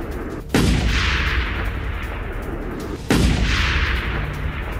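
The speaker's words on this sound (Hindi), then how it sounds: "गाजा में इसराइल का भीषण अटैक, ये एयर स्ट्राइक की गई है और टनल को टारगेट किया गया।" Heavy blasts from an Israeli air strike and missile attack on a residential area with tunnels in North Gaza: two sudden loud booms a few seconds apart, each followed by a sustained rumbling roar, with no voices.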